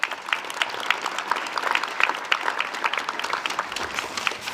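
A round of applause for school trustees at a district gathering, steady dense clapping from an indoor audience that holds at an even level through the whole stretch, with no voices over it.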